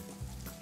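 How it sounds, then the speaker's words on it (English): A brief, soft sizzle of rice frying in a hot pan, with steady crackling and no voices. "Now you can hear it, that rice frying."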